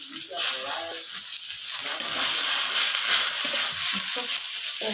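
Bathua leaves dropped into a hot frying pan burst into a loud, continuous sizzle right up close, with some light rattling of the pan as they settle.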